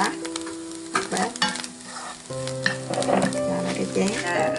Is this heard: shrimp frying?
yes